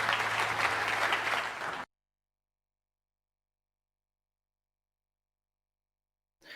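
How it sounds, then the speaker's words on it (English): Audience applause at a talk, a dense burst of clapping for about two seconds that cuts off abruptly into silence, with a faint return of sound at the very end. "Give them a big round of applause."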